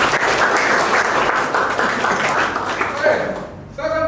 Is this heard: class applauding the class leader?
yes